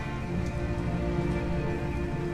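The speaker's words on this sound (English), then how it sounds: "Of course it's raining, because they will not make it easy." Steady rain pours in the video game Detroit: Become Human, a dense, even hiss of falling water with no breaks, fairly loud and close, with no voices over it.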